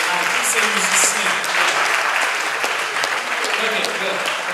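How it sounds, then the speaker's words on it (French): Sustained audience applause for singers and musicians at a praise theology class in Burkina Faso, steady dense clapping throughout, fairly loud and close. "Why don't you give applause alors, to this guy?"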